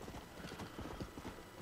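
An undead horse's hooves clip-clop in a steady, quick rhythm in Red Dead Redemption: Undead Nightmare, quiet and moderately distant, with no talk.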